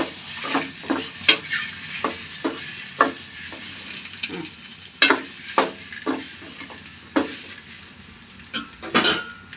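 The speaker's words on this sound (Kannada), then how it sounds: "ಆಮೇಲೆ ಸ್ವಲ್ಪ ಸಾಲ್ಟು ಇಷ್ಟ ಹಾಕ್ಬಿಟ್ಟು ಫ್ರೈ ಮಾಡಬೇಕು ಅಷ್ಟು" Salted ingredients for a quick biryani fry in a hot pan, giving a steady oil sizzle broken by repeated sharp scrapes and clinks of a utensil stirring, loud and close, with no voices.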